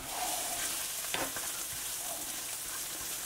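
Onions and spices frying and sizzling in a pan for rabbit tinga, a steady close hiss with a few scraping stirs around the middle.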